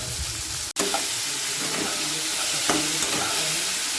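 Steady, loud sizzling of a tomato, turmeric and ginger-garlic paste frying in hot oil over panch phoron seeds, with a sharp click near the start and faint scraping stirs.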